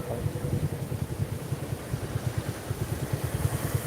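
Small CNG auto-rickshaw engine idling nearby on a flooded main road, a rapid, steady low putter with regular pulses lasting several seconds.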